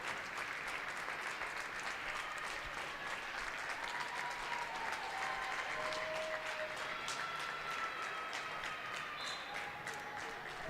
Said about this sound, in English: And a standing ovation from this crowd.